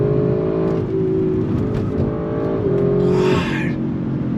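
A 2022 Audi RS6 Avant drives along with a steady engine drone and tire rumble heard from inside, the pitch rising and shifting as it accelerates, with a brief higher whoosh near the end.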